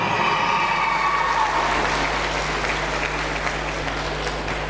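Audience applause at an event, a steady wash of clapping from a crowd sustained throughout over a low hum.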